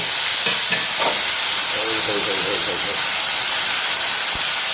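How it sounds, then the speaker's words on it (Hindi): Sprouted chickpeas frying in hot ghee in a pan, a loud steady hiss and sizzle that carries throughout, with a few stirring knocks near the start. "तो ये हैं अंकुरित चने, और इसमें मैंने थोड़ा सा घी डाल लिया है, तो ये अभी गर्म हो गया। तो अब इसमें मैं डाल देता हूँ चने को"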